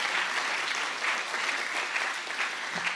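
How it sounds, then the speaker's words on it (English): An audience at an evening student pitch competition applauds the judges, among them Delaware's State Geologist, with a steady, dense round of clapping that holds evenly for the full three seconds. "So let's give them all a big round of applause."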